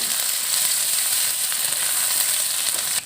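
Ginger garlic paste frying and being stirred in a pan, a loud, dense, unbroken sizzle held close for a few seconds.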